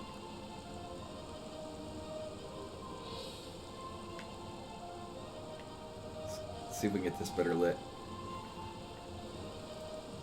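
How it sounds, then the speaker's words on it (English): Steady rain falling in the video game Metroid Prime Remastered, a continuous soft hiss of drops beneath a person talking, with a brief louder burst of game effects partway through. "Looks like the rain is actually falling off of her beam cannon"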